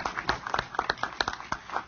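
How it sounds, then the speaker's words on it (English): Crowd clapping in a round of applause at the Philadelphia Mummers Parade, a dense spatter of hand claps filling the whole moment with steady energy. "can we give them a big round of applause as well?"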